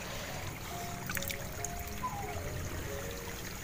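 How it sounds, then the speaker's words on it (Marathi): Natural spring water trickles softly in a rural setting during a rain shower, a faint, continuous dribbling murmur with scattered light splashes, distant and without voices. "झऱ्याचं नॅचरल नैसर्गिक पाणी."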